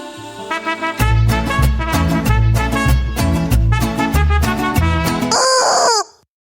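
Chickens cluck and a rooster crows in a video game: loud, rhythmic bursts of fowl calls repeat over several seconds, closing with a sharp, high squawk before a sudden silence.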